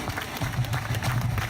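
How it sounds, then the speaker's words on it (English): A short burst of hand clapping, loud and close, with a low hum underneath, as a mother is urged to clap her hands. "Clap your hands, Mom."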